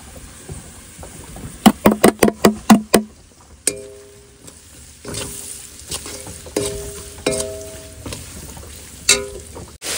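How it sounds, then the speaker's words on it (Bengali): Spices with salt, turmeric, cumin, coriander and chili powder are stirred into ginger, onion and garlic frying in a pan, with a run of sharp spatula knocks and then a soft sizzle and scraping stirs. "এবার দিয়ে দেবো সমস্ত মশলা, লবণ, হলুদ, জিরার গুঁড়ি, ধনের গুঁড়ি, লঙ্কার গুঁড়ি।"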